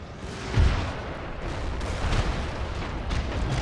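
Horse artillery firing during a Napoleonic battle in Napoleon Total War, heard as a steady rumble of cannon booms and distant gunfire, with a heavier blast near the start and continuous battle noise throughout.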